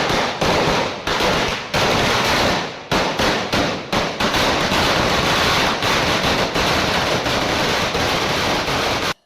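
Firecrackers bursting in rapid, loud, crackling volleys during a UDF election victory celebration in Nilambur, Kerala, with near-continuous dense popping and brief gaps, no talk.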